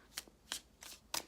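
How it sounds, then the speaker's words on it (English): Soft, close riffling of a Gilded Tarot deck in four quick bursts, faint and papery, with short pauses between each shuffle. "Just shuffling the Gilded Tarot deck for you."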